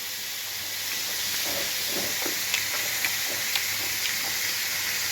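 Sliced papaya fries in a pan with a soft, steady hiss and faint steam, while a few light ticks and pops rise above it at a moderate distance.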